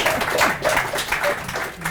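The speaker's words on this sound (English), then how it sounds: "You can applaud it first, yeah." Audience applause breaks out at a panel discussion on Pride and the Stonewall generation, a steady wash of clapping from a seated crowd lasting a couple of seconds.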